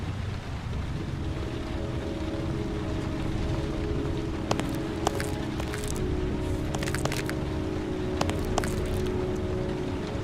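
Steady rain falls on surfaces in a dark city street scene from the video game Heavy Rain, a constant close hiss with scattered sharp drips and cracks, no voices.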